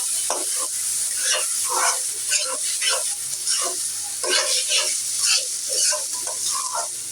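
Rice frying in about two spoons of ghee in a wok sizzles with a constant high hiss while repeated scraping stirs cut through up close.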